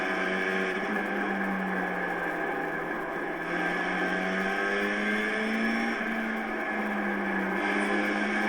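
A Formula 4 race car laps the Mid-Ohio track, its engine holding a loud, steady high-revving whine that rises and dips slightly through the corners, with no voices.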